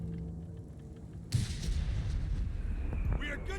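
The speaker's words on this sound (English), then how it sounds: "Mordo firing away here, bombarding the south." Artillery bombardment in Company of Heroes 3: a sudden loud blast opens a continuous rolling rumble of shelling and gunfire. A voice speaks faintly beneath it.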